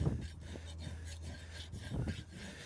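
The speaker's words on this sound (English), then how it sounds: "I'm not just rasping it away" A farrier rasps the toe of a horse's hoof with a file, giving quiet, rhythmic scraping strokes in a short run.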